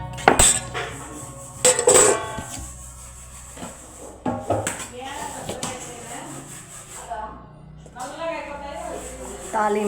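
Kitchen utensils and pots clatter and clink in a home kitchen during cooking, with a few sharp knocks early on and scattered handling noises, partly under ongoing talk.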